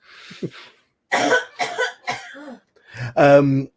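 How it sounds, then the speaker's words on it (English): A series of harsh coughs, loud and close, in uneven bursts, ending in a strained, voiced cough. "She'll just cough more."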